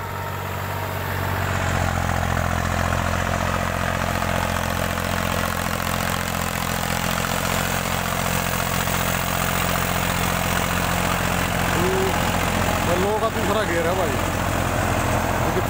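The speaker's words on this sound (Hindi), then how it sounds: "यो ट्रैक्टर है सामने ड्यूज फायर फोर व्हील है भाई, 60 HP का ट्रैक्टर है।" A Deutz-Fahr 603 4WD 60 HP tractor, set to pull an 8-foot super seeder, runs steadily nearby with a continuous low engine drone throughout, and a voice speaks briefly near the end.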